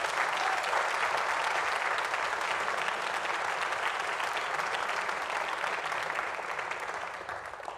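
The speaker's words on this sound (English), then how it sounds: "How about a round of applause for our nominees?" Applause from the audience at a grade 9 to 11 awards event, dense and even clapping that holds steady for several seconds before tapering off slightly at the end, with no voices standing out.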